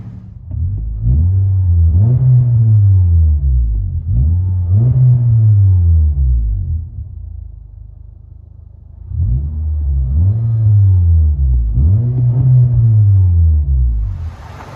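A 2017 Honda Accord 2.4L four-cylinder with a Magnaflow Magnapack exhaust, heard from inside the car: a low, smooth droning rumble that rises and falls in four repeated rev sweeps, steady and clean with brief lulls between.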